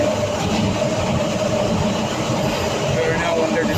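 A Docklands Light Railway train between Canary Wharf and London City Airport runs through a tunnel, with a loud, constant rumbling roar and faint rattling that fills the whole stretch.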